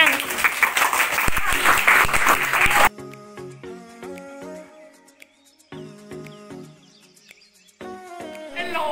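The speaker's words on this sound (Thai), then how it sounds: "ปรบมือให้ตัวเอง" A group of school students applaud themselves in a classroom, a dense burst of clapping for about three seconds that stops abruptly, followed by scattered tonal sounds and quieter noise.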